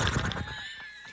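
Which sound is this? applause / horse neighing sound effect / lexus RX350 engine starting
horse neighing sound effect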